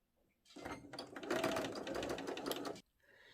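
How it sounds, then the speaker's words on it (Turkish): A sewing machine runs steadily for about two seconds, stitching the shoulder seams of a plush vest on a zigzag setting. Its motor whirs and needle chatters close and clear, starting and stopping cleanly with no talking. "Şimdi makinede omuz dikişlerini yapıyorum."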